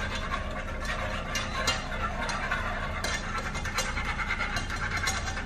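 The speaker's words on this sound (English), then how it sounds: "we'll take a little whisk. And just whisk that thing on it." A whisk beats hot cocoa in a pot, making a fast, continuous clattering and scraping against the metal that stays loud and close throughout.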